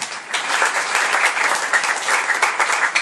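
A church congregation breaks into loud sustained applause, dense clapping from many hands filling the space continuously, with faint voices mixed in.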